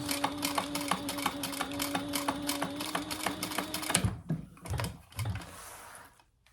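A sewing machine runs a row of top stitching over fabric with a rapid, even mechanical chatter for about four seconds, then stops and a few short, slower bursts and clicks follow. No one speaks.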